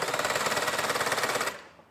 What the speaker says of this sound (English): I'm going to use a drill to spin my PTO shaft just to simulate how that would be on a tractor